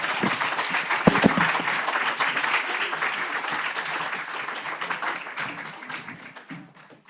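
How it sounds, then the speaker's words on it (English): An audience at the Wainwright Prize 2024 ceremony applauds the authors, with loud, dense clapping that peaks early and then gradually thins and fades toward the end. "And a round of applause for our lovely authors."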